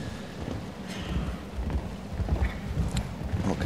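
Show-jumping horse hooves on an indoor World Cup arena surface in Helsinki, a steady muffled clip-clop of a moving horse set against a broad crowd and arena ambience throughout.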